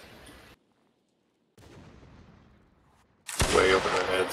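Cannon fire in a Napoleonic Wars line battle in Mount & Blade, a loud booming blast erupting after a quiet stretch and lingering with rumbling noise.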